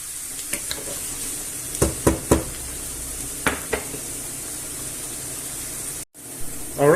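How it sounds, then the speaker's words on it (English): Onion and garlic brown in a pan with a constant background sizzle and the steady hiss of an extractor fan, broken by several sharp clacks of a utensil against the pan and a brief drop to near silence near the end. "So let's brown this off, turn the extractor fan on a little bit."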